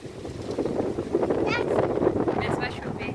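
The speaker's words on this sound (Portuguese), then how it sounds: "Olha a ventania que tá" Strong wind roars outdoors in a home yard, a constant rushing buffet across the microphone, with a voice and faint chirps breaking through now and then.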